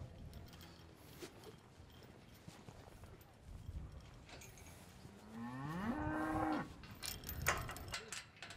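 Cattle at a ranch during a day of cow handling: a loud, drawn-out moo rises partway through over clattering hooves, metal gate or chute noise and general ranch bustle, with faint voices nearby.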